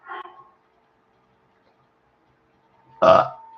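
Two loud burps close to the mic, a short one at the start and a stronger, rougher one near the end, separated by near silence.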